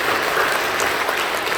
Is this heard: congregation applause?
yes